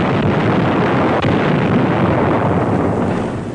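Bangalore torpedoes and grenades exploding during the WWII Gilbert and Marshall Islands campaign, heard as a continuous, loud, roaring rumble of blasts with no voices, recorded in wartime combat footage.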